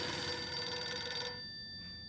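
An electronic telephone bell rings steadily in the horror video game Silent Hill f, a bright, loud trill that stops partway through and leaves a fading tail of quiet ambience.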